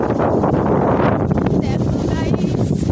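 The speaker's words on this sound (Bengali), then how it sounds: "এই দেখো কি হাওয়া," Strong wind gusting across an outdoor microphone in a loud, constant rush with low buffeting that holds steady throughout; a voice speaks faintly underneath.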